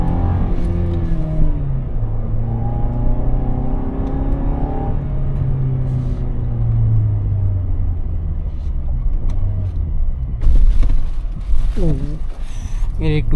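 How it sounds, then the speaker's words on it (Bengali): A 2020 Toyota Land Cruiser Prado's engine hums steadily while driving, a low continuous rumble with rising and falling tone and some road noise, with a person talking over it throughout. "এই গাড়ির কিন্তু ইঞ্জিনের সাউন্ডটা অনেক স্যাটিসফাইং"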